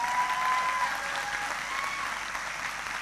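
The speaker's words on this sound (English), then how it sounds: "Can we give them all one last round of applause?" Sustained applause from a conference audience celebrating award winners, a dense, steady wash of clapping that holds at an even level throughout.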